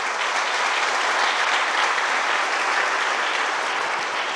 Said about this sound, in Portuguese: Isso, pode aplaudir ele.